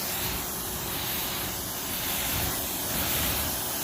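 A Greenworks electric pressure washer sprays a car with a steady, broad hiss, running continuously at close range, loud and even with slight swells, with no voices over it.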